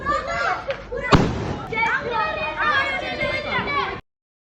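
New Year firecrackers bursting at night, one sharp loud bang standing out amid continuous crackling and a busy outdoor din, with people talking and chattering throughout.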